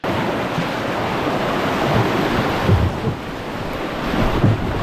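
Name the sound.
wind blowing outdoors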